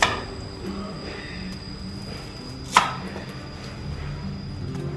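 A very sharp kitchen knife slicing food at home, probably breakfast prep for fried rice, gives one crisp cutting tap near the middle over a steady low room hum, with faint fainter cuts around it and no talk.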